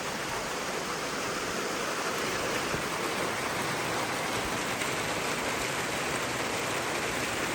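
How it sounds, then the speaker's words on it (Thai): Rain pours down steadily in a rural setting, a continuous broadband hiss with no breaks, fairly close and even in level, and no voices heard. "ฝนตกบ่เซาเลย"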